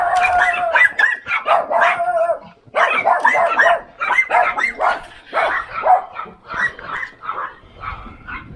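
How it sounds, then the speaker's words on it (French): A guard dog barks loudly and repeatedly near a church in the French countryside, bursts of sharp barks and howling yelps in an uneven, agitated rhythm lasting several seconds. "Ça c'est du chien de garde"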